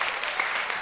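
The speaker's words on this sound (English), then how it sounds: "Give him a round of applause." Brief burst of audience clapping at a children's church camp service, a dense even patter of many hands lasting under a second, fairly soft and without speech.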